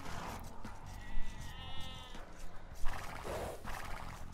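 Sheep bleating in the Age of Empires 2 strategy game, a couple of short wavering bleats mixed with other game effects and background music.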